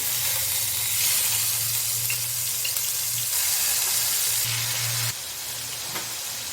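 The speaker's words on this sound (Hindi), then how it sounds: "तेल हमारा गर्म हो चुका है। अब एक एक करके पीस हम इसके अंदर ऐड कर देंगे।" Butter chicken pieces dropped one by one into hot oil, giving a steady close, loud sizzling hiss with a low gas-flame hum underneath, shifting slightly as pieces settle and are moved.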